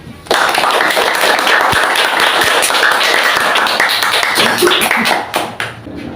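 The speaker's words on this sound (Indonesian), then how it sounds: "Sekali lagi beri tepuk tangan kepada beliau." An audience at a youth congress gathering bursts into loud, dense clapping that holds steady for several seconds and then tapers off, with some voices mixed in.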